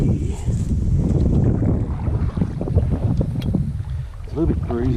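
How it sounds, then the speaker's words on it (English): Breezy, cold morning wind buffets the microphone outdoors with a steady low rumble, while a voice speaks over it toward the end. "It's a little bit breezy this morning"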